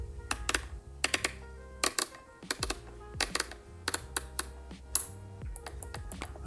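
The ISO dial of a Nikon Zf camera being turned, producing a series of crisp, close mechanical clicks in irregular bursts, some quick doubles, against a quiet room.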